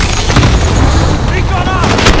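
A cluster strike in Call of Duty: Modern Warfare, with loud, continuous rumbling explosions and gunfire packed tightly together, with brief voice-like calls near the end.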